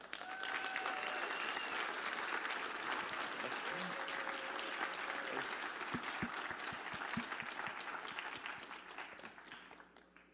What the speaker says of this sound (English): Please join me in giving a round of applause to the team Spin for their project Dawn.